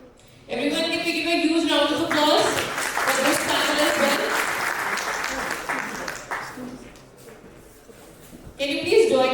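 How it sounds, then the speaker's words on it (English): Audience applause for a panel at the REConnect Summit 2025 fills most of the clip, a loud sustained clatter of many hands with voices mixed in, tapering off before speech resumes near the end. "can we give a huge round of applause for this panel as well?"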